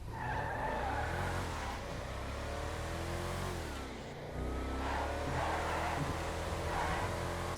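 An SUV in GTA 5 Online revs hard with tires skidding and squealing, a loud, sustained engine roar that rises and falls, with a brief lull midway before pulling away again.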